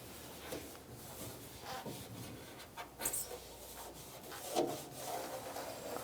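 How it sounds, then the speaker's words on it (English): An alcohol pad wiping along the bottom lip on the underside of a 1997-2006 Jeep Wrangler hood, giving a soft, steady rubbing swish with light scuffs throughout, close and quiet. "using the alcohol pad supplied, we're going to wipe down the bottom lip here all the way across"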